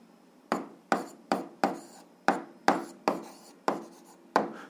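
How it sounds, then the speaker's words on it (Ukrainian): A pen writes down the answer to an algebra exercise, about ten sharp taps and strokes on a hard surface at an uneven, fairly quick pace, close and alone. "Записуємо відповідь, пишемо відповідь."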